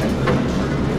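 Moscow metro train running: a dense, loud rumble of wheels and carriage noise, close and continuous for a brief moment, with no voices.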